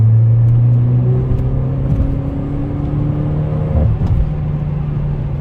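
The 1.6 turbo engine of a Peugeot 208 GTi revs with a deep, loud droning rumble and a whirring turbo, pitch climbing and dropping through the run, heard close with no talking.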